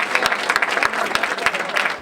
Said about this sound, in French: Les applaudissements ne font que commencer